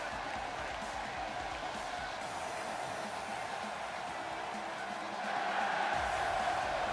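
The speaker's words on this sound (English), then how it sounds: "And the crowd are loving it here at main event" A steady, dense crowd roar fills a WWE 2K16 wrestling arena, holding at an even level and swelling slightly louder toward the end.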